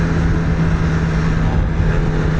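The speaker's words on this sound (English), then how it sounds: "So the sound of the exhaust is not as awesome as on the other one" A BMW S 1000 R motorcycle exhaust hums at a steady low pitch while cruising, mixed with loud continuous wind roar, with no speech.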